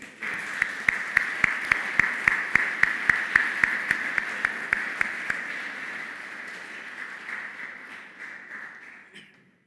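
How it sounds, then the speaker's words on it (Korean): A church congregation claps for its choir during a Sunday service: crisp, evenly spaced claps in unison that gradually loosen, thin into scattered applause and fade out. "우리 격려의 박수 한번."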